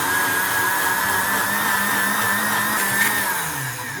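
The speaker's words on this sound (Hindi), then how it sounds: "अब इसको मैं शिफ्ट कर रहा हूँ जग में, ब्लेंडर में। तो अब इसको हम ग्राइंड कर लेते हैं।" An electric blender grinds homemade pizza sauce in its jug with a loud, steady motor whine that holds throughout and eases slightly at the end.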